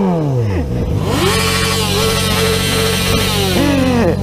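A motorcycle engine revs hard nearby, pitch sweeping down then climbing into a loud sustained roar with a final rising surge, crowd noise faintly underneath.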